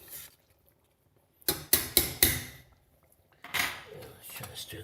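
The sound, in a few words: stirring a medieval stew of carrot, onion and beans in a pot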